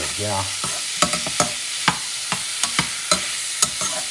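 Duck ball mixture with Roma tomato stirred in a frying pan, a close sizzle broken by quick, uneven scrapes and knocks of the utensil against the pan.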